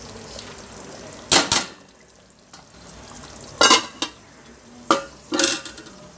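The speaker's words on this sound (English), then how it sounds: "Now I'm going to cover it and let it cook for some time." A red meat korma curry simmers in a covered pot with a faint steady sizzle, broken by a few sharp, close clanks of the lid and utensils.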